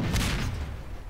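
A cannon fires in the Battlegrounds 2 video game during a fort battle test, a single dense, rumbling boom that fills the moment and then slowly decays without any speech.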